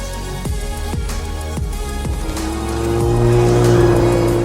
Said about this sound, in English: I'm going to show you with this Lancia Delta Integrale.